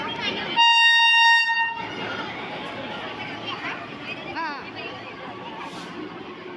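A Secunderabad–Ayodhya passenger train pulls into a station, opening with a loud multi-tone horn blast followed by rolling rumble and clatter of the carriages as people talk in the background.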